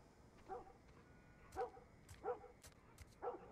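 Dogs barking in the PC game The Last of Us, a series of four spaced, faint barks heard from a distance over a low background hiss.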